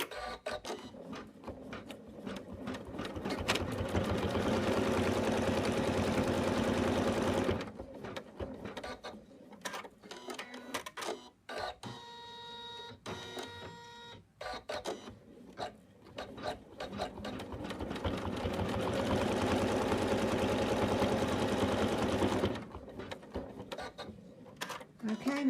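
An embroidery machine rapidly stitching the eyebrow placement line on an in-the-hoop Santa bib, a dense buzzing whir running in two long bursts with a quieter, clicking pause between them.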